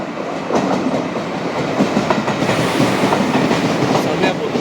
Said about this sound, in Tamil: பாரு ட்ரெயின் வருது.